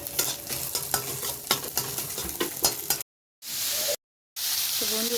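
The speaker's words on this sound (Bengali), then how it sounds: "আর এখানে ডিম ভাজা হচ্ছে" An egg fries in a pan with a steady sizzle and repeated scraping and stirring strokes for a few seconds, followed by a short break and further hiss.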